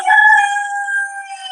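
A single loud, close rooster crow, one sustained call held steady and alone with no talking.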